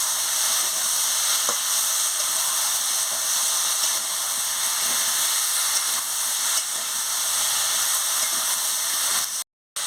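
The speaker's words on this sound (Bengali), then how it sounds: "সরষে বাটা দিয়ে ভালো করে আনাজের সঙ্গে কষিয়ে নিচ্ছি" Vegetables (drumstick, potato, carrot, brinjal) sautéing with mustard paste in a pan, a loud, even sizzle and hiss heard up close with faint stirring, continuing steadily without pause.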